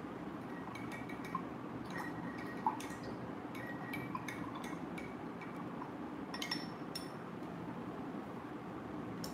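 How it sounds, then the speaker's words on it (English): A paintbrush being rinsed in a water glass while painting a tote bag, with faint scattered drips, taps and light clinks against the glass at an irregular pace, close and quiet. "Now I'm going to add some details for the leaves. So now I'm going to wash my brush first."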